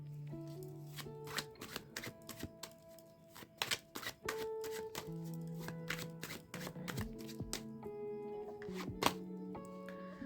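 Tarot cards are shuffled and flicked in a long run of quick crisp riffling snaps, close and steady, with a soft tonal background underneath.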